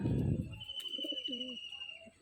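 Pigeons of an old-bloodline Dragon Face Fulsira breed coo nearby, a couple of soft rolling coos following a burst of rustling noise, with a faint steady tone in the background.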